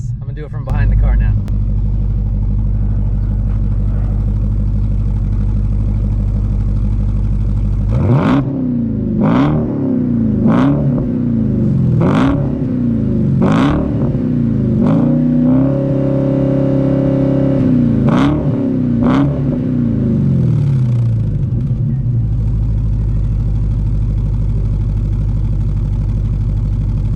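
From behind a Dodge Challenger Hellcat fitted with a Zoomer catback exhaust, a deep idle rumble gives way to a run of about eight sharp, loud throttle blips before it settles back to idle.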